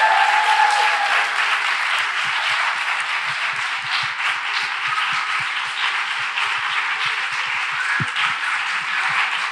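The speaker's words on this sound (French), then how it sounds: "Est-ce qu'on peut faire un tonnerre d'applaudissements pour Camille, s'il vous plaît?" Dense audience applause for a performer fills the whole stretch, a steady broad wash of many hands clapping at even loudness with no speech over it.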